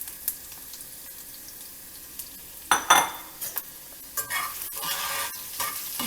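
Chopped ginger stirred in a hot pan with peppercorns, scraping spoon strokes and short bursts of sizzling frying, close and fairly quiet, with a louder clatter of stirring in the middle.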